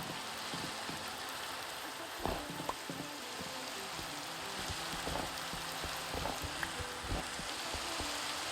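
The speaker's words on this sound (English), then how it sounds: "I hear rain" Rain falls in a Minecraft modpack world, a faint, steady hiss of drops with scattered soft clicks and small mechanical ticks over it, no talk.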